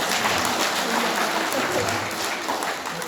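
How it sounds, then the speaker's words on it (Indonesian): Dense applause from a church congregation giving a round of clapping for the glory of God, loud and steady throughout, easing slightly toward the end. "kita akan berikan satu tepuk tangan untuk kemuliaan Tuhan"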